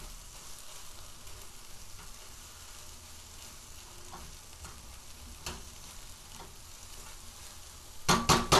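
Scrambled eggs with cheese cook in a pan under a steady soft sizzle with occasional spatula scrapes, ending in a few sharp louder clatters.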